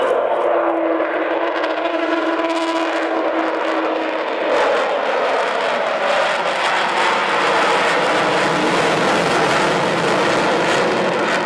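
Avro Vulcan XH558 delta-wing jet bomber passing over an airshow at Shuttleworth in 2015, a loud, steady engine roar that swells and broadens into a wide, rushing howl, with no talk over it.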